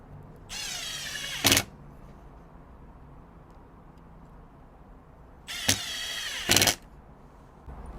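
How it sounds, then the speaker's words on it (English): Milwaukee M18 2953 impact driver on mode 1 sinking 1 1/4 inch general purpose screws: two separate bursts of rapid hammering rattle, each about a second long and ending in a sharp louder impact, close up with quiet gaps between. "Let's start out our testing with 1 1/4 inch general purpose screws on mode"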